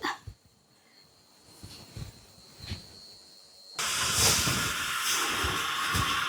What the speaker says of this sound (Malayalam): ഇതിലേക്ക് ഇങ്ങനെ വെച്ച് കൊടുക്കാം ആവി നന്നായി ആവി കിട്ടി വെന്ത് വരണേട്ടത്